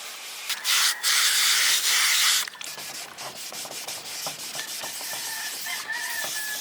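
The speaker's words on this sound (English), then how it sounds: "So I'm gonna start sanding it down." Wet sanding a clear headlight lens by hand with 800 grit sandpaper, a steady hissing rub that runs loud for about two seconds and then continues as softer, rhythmic strokes.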